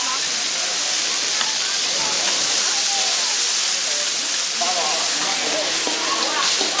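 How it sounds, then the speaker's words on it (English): Half-moon-shaped dumplings sizzle on a hot griddle at a street food stall in Kunming, a steady bright hiss that carries throughout with market voices faintly over it. "I actually heard the dumplings sizzling"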